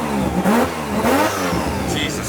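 A Mazda RX7 with a 20B rotary engine and Haltech setup revs hard in short, rising bursts with a raspy exhaust note, heard close and loud while people react nearby.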